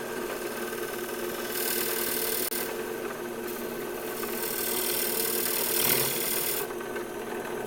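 A woodturning lathe takes a cut on a spinning wood piece, a steady rasping scrape that swells and fades in several passes over a constant motor hum, with no talk.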